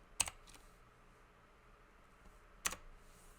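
Sparse keystrokes on a computer keyboard while code is typed, two quiet clusters of clicks separated by a long pause, close and alone over faint room hiss.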